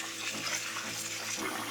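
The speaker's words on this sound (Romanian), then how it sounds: "pe care îl spăl bine, îl adaug într-o sită, ca să nu-l scap prin chiuvetă" Rice is rinsed in a sieve under a running kitchen tap over a sink, a close, continuous hiss of flowing water.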